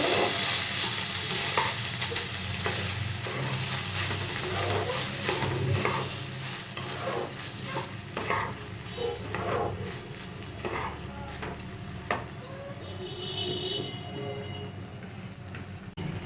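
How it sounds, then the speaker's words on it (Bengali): Soaked and washed basmati rice stirred and fried in a pot, giving a continuous close sizzle with repeated scraping and rustling as it is turned over; a voice is faintly present. "দেখো বন্ধুরা মোটামুটি এটা ভাজা হয়ে গেছে"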